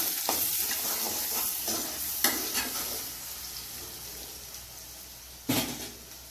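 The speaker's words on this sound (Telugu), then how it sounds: "పచ్చిమిర్చి పైన తెల్ల తెల్లగా ఇట్లా వేగినట్టుగా తెలిసిపోతుంది కదా" Green chilies and tomato pieces fry in a pan for a mushroom curry with a steady crackling sizzle, interrupted by scraping stirs and a few sharp clattering bursts of utensil against pan.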